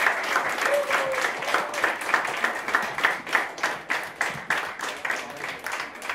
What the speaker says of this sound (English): can we applaud one more time this great set of panelists?